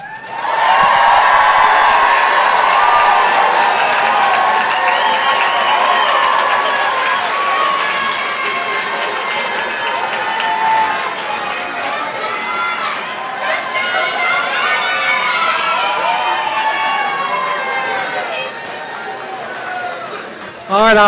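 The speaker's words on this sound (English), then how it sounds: "if you ever wanted to shout and applaud, now's the time to do it" A large crowd of friends and family at a medical school white coat ceremony cheers, shouts and claps loudly and steadily for about twenty seconds, with whoops rising over the dense applause.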